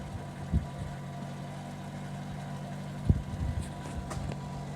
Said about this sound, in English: You can already hear though that the oil pump went bad.